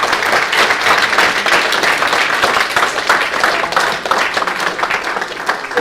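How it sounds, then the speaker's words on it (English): Sustained audience applause for conference panelists at a UAP congress, a dense, even wash of many hands clapping at steady loudness throughout, easing slightly near the end. "Big round of applause for our panelists, please."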